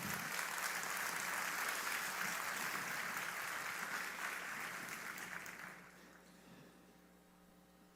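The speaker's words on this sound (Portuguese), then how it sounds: "Uma salva de palmas para Jesus." An audience at a conference talk gives sustained, dense applause that fades out after about six seconds, leaving a quiet room with a low electrical hum.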